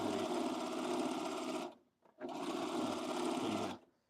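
Sewing machine running fast and loud in two long bursts, a steady whirring rattle that stops briefly for a moment of near silence before starting again.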